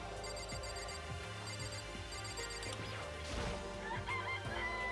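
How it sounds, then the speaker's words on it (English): Chickens clucking in the Danganronpa video game, a flock of about five birds, heard as repeated short clucks and squawks over layered game music and chiming effects. "So we've got 5 chickens."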